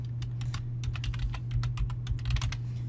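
Keys on a computer keyboard are tapped in a quick, steady run of close, light clicks over a low hum.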